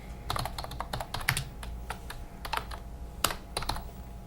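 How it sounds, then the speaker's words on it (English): Someone types on a poor-quality computer keyboard in a quick, uneven run of close, crisp key clicks with a few heavier strikes, alone without talk. "This helps if you can type better. Yeah. This keyboard's not good."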